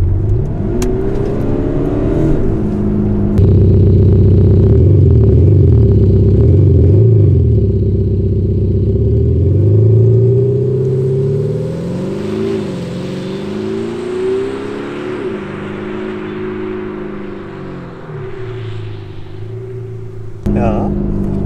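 A VW T6 Multivan with a 204 hp biturbo TDI diesel and active sound generator in its louder mode rumbles and revs in deep, throaty swells, close and loud, with a person talking over parts of it.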